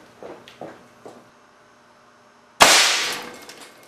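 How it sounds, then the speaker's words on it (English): An air cannon shot strikes the glass of a Samsung CRT TV, a sudden loud crashing impact that decays over a second, preceded by a few faint knocks and a low hum. "I think I might try and shoot a little higher and knock more of this stubborn Samsung CRT glass out."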